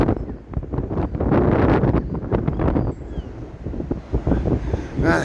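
Gale-force wind at the Blackpool seafront buffets the microphone in loud, irregular roaring gusts that surge and ease throughout.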